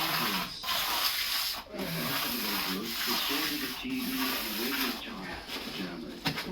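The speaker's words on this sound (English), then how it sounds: "we just got a normal steel trowel" A steel trowel scrapes and rubs steadily across a fresh floor screed laid over pipes, a continuous close gritty rasp with brief pauses, under people talking.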